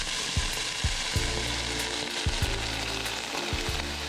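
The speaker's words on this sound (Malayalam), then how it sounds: "ഈ 2 മിനിറ്റ് നേരത്തേക്ക് ഇതൊന്ന് ഫ്രൈ ചെയ്തെടുക്കാം ഈ റൈസിന്." Rice fries in ghee with cinnamon and cloves while making kaada biriyani, producing a steady close sizzle with repeated spoon-stirring scrapes at a loose, uneven rhythm, and no voices.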